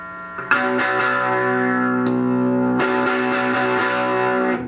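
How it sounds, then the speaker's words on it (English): Electric guitar through a humbucker with the coil tap pulled, which the player says makes it louder with less hum: strummed chords ring out sustained, with a sharp restrike near the start and another about halfway, no voices. "It actually gets louder and the hum gets quieter when you pull out the single coil tap."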